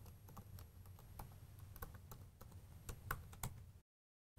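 Rapid, irregular keystrokes on a computer keyboard as a password is typed, close and steady for several seconds, with a couple of sharper key presses near the end before a brief silence.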